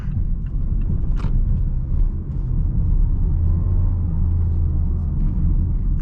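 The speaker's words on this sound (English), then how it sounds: "go over some speed bumps, check out the noise level" A 2019 Mazda CX-3 GS rolls through a shopping plaza lot over speed bumps, heard from inside as a steady low road rumble and hum with a brief bump thud early on.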